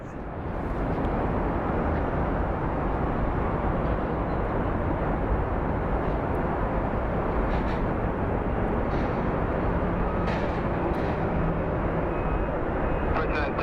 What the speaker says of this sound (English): So that is a train that you guys are hearing.